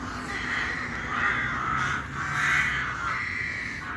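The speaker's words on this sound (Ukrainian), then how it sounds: "Це ворони каркають в мене над головою." Crows caw repeatedly overhead in the town of Ovruch, several loud, harsh calls following one another in an uneven rhythm, fairly close above.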